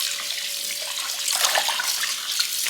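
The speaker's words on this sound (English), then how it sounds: "Let me pour more water on this." Water pours steadily into a cooking pot of turnip greens being prepared for Thanksgiving, a close, continuous splashing rush with no talk over it.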